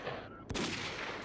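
A single sharp gunshot crack from a firefight against mercenaries in STALKER: Call of Pripyat, faint and brief over a dense background of ambient game noise.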